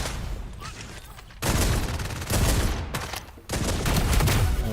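Kismet grenades and gunfire in a FragPunk match, dense bursts of rapid shots and explosions in several loud volleys, with a commentator talking underneath.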